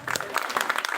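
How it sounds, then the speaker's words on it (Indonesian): Brief burst of audience applause at a Balinese performance in a university faculty hall, quick uneven claps from a modest crowd. "tepuk tangannya dulu dong."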